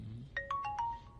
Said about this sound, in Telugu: ఫోన్ వస్తుందేమో చూడండి